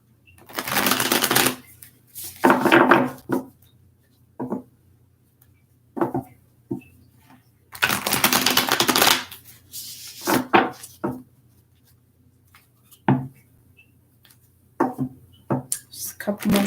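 A deck of tarot cards is shuffled in several quick riffling bursts, crisp and close, separated by short pauses and light handling taps, with a voice speaking in places.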